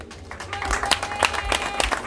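Applause at the Kisumu Tourism Excellence Award Ceremony 2025 honouring the Kenya Association of Travel Agents: a dense, steady patter of many hands clapping at moderate loudness, with a sustained tone running beneath.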